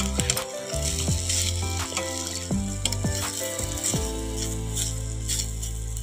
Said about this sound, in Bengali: আর এই দেখো বড়াটা ভেজে নিচ্ছি বন্ধুরা